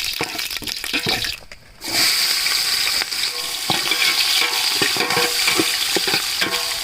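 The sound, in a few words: whole spices frying in oil for egg biryani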